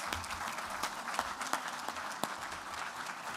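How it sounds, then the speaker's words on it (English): An audience at a student awards night claps for the students' families and friends, with scattered distinct claps over a soft room hum, fairly faint and thin rather than a full roar. "please stand or identify yourselves so that we can give you a round of applause for your unwavering support"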